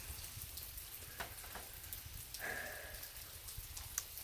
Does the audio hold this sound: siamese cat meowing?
no